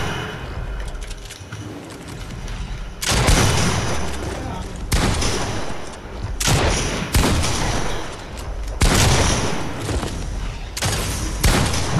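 Shotgun and weapon fire in a Fortnite fight, several loud booming blasts in irregular bursts with short gaps between, close and heavy, over background game noise.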